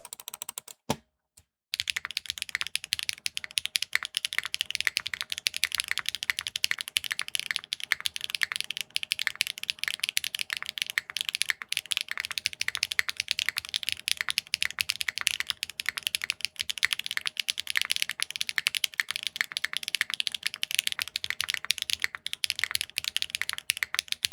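Fast, continuous typing on a Neo65 Core Plus mechanical keyboard with HMX linear switches, dense clacky keystrokes up close after a brief pause at the start.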